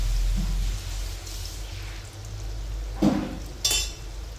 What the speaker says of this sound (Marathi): आता हे छान क्रिस्पी तळून घ्यायचे आहे.